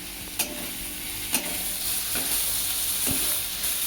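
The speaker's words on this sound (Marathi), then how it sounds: "कांदाही परतत आहे." Onions sautéing in a pan while baingan bharta is prepared: a steady, soft sizzle runs throughout, broken by a few light stirring knocks, with no talking.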